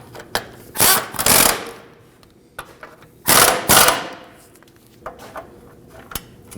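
A power ratchet whirs in two long bursts and a few shorter clicks as bolts are snugged on a front lower control arm bracket of a 2013-2015 Subaru XV Crosstrek, close up with clatter between runs.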